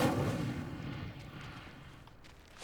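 The Incendio fire spell cast in Hogwarts Legacy: a dense, rumbling roar of flame, loud at first and easing slightly over a few seconds before swelling again at the end, with no voice over it.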